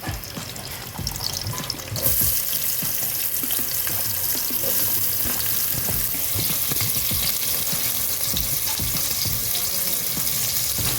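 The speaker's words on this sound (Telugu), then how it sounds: "మరి దీంట్లో ఉల్లిపాయలు వేసుకుంటున్నాను." Onions frying in about 100 grams of oil for an Andhra-style prawn, potato and brinjal curry, a steady dense sizzle that swells louder after a couple of seconds and then holds, close and continuous, with no talking.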